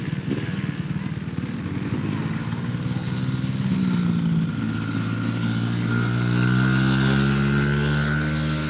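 A motocross dirt bike engine, including a 1997 Kawasaki KX250, drones at a practice track. The buzzing note climbs steadily in pitch as the rider accelerates and holds fairly loud and close throughout.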